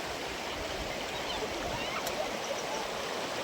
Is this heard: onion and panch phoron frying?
no